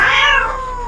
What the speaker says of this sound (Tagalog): Mas lalo na yung mga pusa ko dyan sa labas.